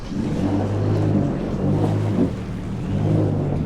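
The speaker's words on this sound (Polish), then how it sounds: "Zbudowałem sobie skuter i spływam z takiego pomostu. Rzuciłem wsteczny." A 15-year-old Yamaha FX jet ski idles and rumbles steadily as it reverses off a pier at Mikołajki, its low engine drone close and continuous with slight swells in pitch.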